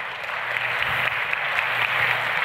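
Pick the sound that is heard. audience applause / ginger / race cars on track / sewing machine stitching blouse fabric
audience applause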